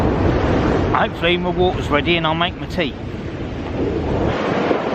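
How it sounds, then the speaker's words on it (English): Strong wind gusting across a Suffolk beach at night during a fishing session, a loud, constant roaring buffet that carries on beneath someone talking and keeps blowing after he stops. "Hopefully you can hear alright without those winds going past"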